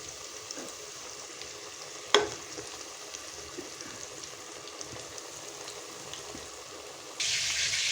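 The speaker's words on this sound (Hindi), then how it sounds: "इस तरह से ना हम सारे अपने पकोड़े तल लेंगे।" Pakoras frying in hot oil for kadhi pakora, a soft steady sizzle and crackle at close range, with one sharp clatter early on and a brighter hiss of bubbling rising near the end.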